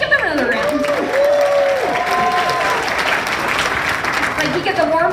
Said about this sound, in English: Let's give them another round.